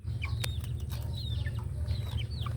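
Chickens clucking and chirping while tearing Madre de Agua leaves, several short scattered calls over a low steady rumble.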